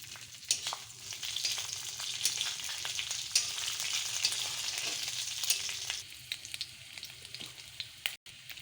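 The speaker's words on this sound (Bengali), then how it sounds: "আদাটাকে ভালো করে ভেজে নিতে হবে" Ginger paste frying in hot oil in a pan with spices, giving a loud, steady, close sizzle with a few faint stirring scrapes and no voices.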